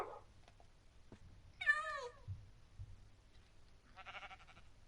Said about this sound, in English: Kitty stays on my bed.